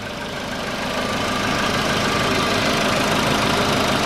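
A VW Polo Sedan's 1.6 CFNA engine idles with faint piston slap, a steady mechanical clatter and hum that holds at an even, moderate loudness throughout, close to the engine and free of talk.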